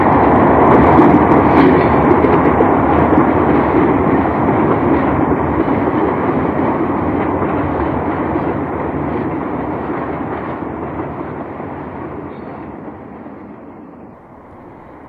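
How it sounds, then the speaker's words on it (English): A Ronkonkoma passenger train behind an ALCo locomotive speeds past Hollis on Long Island, a loud continuous roar and rail clatter that slowly eases as it goes by. "a Ronkonkoma train highballs Hollis"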